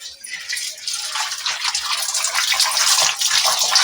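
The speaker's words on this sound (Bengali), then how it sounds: "আমি এবার ধুয়ে নেবো মাছটাকে" Salted snakehead fish pieces are rinsed under running tap water, a steady close gushing and splashing that grows slightly louder over a few seconds.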